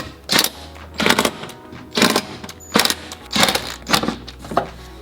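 A power tool drives the bolts of a BMW M235i transmission mount brace in short repeated bursts, about six quick whirring pulses with brief pauses between them, close and loud.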